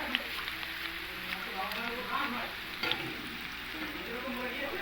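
A small chopped onion fries in a pan with a continuous close sizzle and soft stirring scrapes. A voice can be heard faintly in the background.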